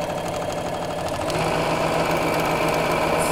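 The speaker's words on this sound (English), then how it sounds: "So let's sew across there." Sewing machine stitching across a Valentine mug mat, a steady, loud mechanical whirring hum with rapid rhythmic needle pulses, running continuously and close up.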